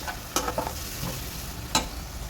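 Ginger and garlic fry in a pan with a soft, even sizzle, broken by two brief sharp clinks of a utensil; no talking.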